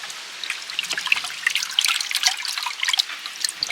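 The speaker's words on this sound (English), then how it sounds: "we're going to take them apart and swish them in the water" Onions, pulled apart from a garden bed, swished by hand in a container of water to rinse off dirt, giving steady close splashing, dripping and trickling throughout with no talk.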